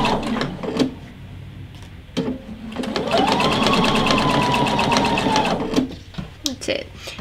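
A sewing machine stitches fabric for a Christmas stocking in a close, steady whirring run lasting a few seconds, with a speaking voice before and after the stitching.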